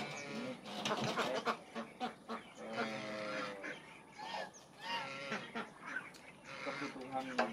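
Muscovy ducks on a duck farm give repeated hoarse honking calls, fairly faint and scattered, heard under someone talking throughout.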